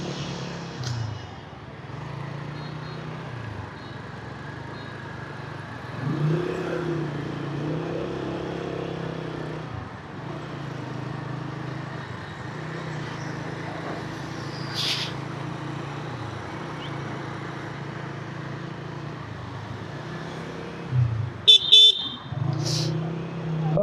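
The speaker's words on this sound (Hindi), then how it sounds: "पेशावर में ट्रैफिक काफ़ी ज़्यादा हुई है" Busy road traffic in Peshawar, Pakistan rumbles steadily with engines and motorbikes passing, and a few short car horn toots sound near the end.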